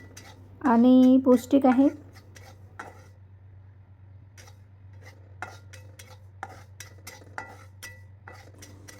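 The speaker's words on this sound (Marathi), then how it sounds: "असे सतत फिरून फिरून भाजून घ्यायचं आहे, म्हणजे सारखे भाजले जातील तीळ" Sesame seeds stirred and dry-roasted in a pan for sesame, peanut and jaggery laddoos, giving faint, scattered scraping clicks that follow a brief spoken line.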